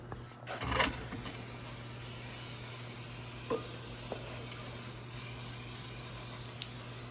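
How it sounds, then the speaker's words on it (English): Steady close hiss of liquid sprayed onto a car's front brake caliper to wash off brake fluid, running continuously for several seconds with a few faint clicks and knocks in the background. "Now just wash all the brake fluid off of it."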